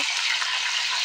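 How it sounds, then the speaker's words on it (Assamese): Fish frying in a pan, a dense, bright hiss of hot oil sizzling steadily and close up for a brief moment, with no voices. "10:30 বজাতে মাছ ভাজি আছোঁ।"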